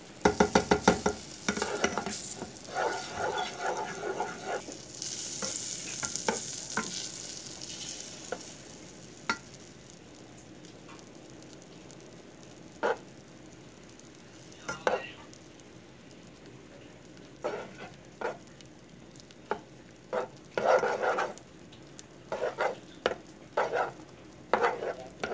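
A spoonful of margarine or butter melting in a hot pan for pumpkin purée, opening with a soft sizzle and then scattered scrapes and taps of stirring over a faint background hiss.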